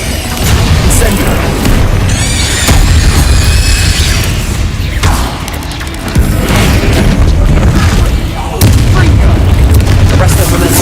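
Repeated booming fire-spell bursts cast in Hogwarts Legacy, loud and forceful blasts with crackling flare-ups spread across the stretch amid game action and other sounds.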